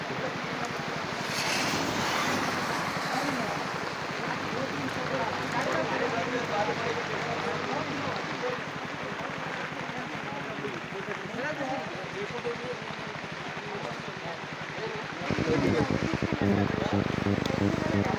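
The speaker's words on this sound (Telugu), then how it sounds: "बारिश गिर रहा है बहुत बड़ी।" Heavy rain pours in a dense, continuous rush that holds steady throughout and swells louder near the end.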